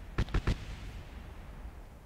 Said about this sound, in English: Cool, they're setting off fireworks around us.